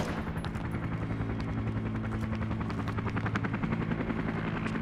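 Steady thumping helicopter rotor drone fills the scene in the video game Arma 3, with rapid bursts of gunfire crackling over it in a loud, dense battle mix.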